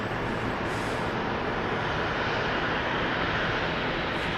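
Bombardier Global Express XRS business jet arriving at Dallas Love Field, a steady, broad engine roar holding at a constant level throughout, fairly loud and continuous with no voices.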